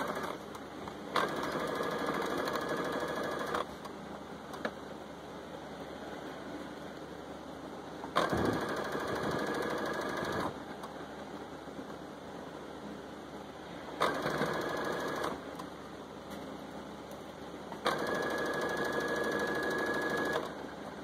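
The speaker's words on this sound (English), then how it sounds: "Do not sew over your pins." A sewing machine stitches fabric for a pinafore dress in several separate runs of steady, rapid whirring, each lasting a few seconds, with quiet pauses between them. The sound is close but fairly soft.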